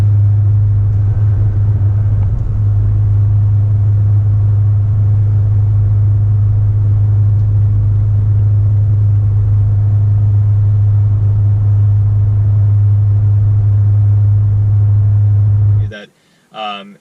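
Falken Wildpeak A/T3W all-terrain tires on a Toyota Tacoma at highway speed give a steady, loud low road drone and hum inside the cab, constant throughout before cutting off abruptly near the end.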